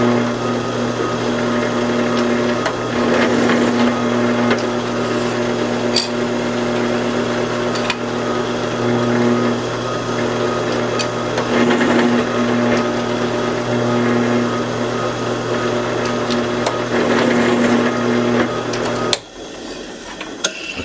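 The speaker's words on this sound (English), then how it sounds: "now our scales are drilled and counterbored for the screws" Drilling and counterboring knife handle scales for screws on a machine, with a steady motor hum and whine running continuously alongside intermittent cutting noise, then stopping abruptly near the end.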